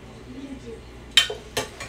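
Dishes and utensils clink sharply two or three times as food is scooped out, the bright metallic knocks standing out against a quiet, dull background.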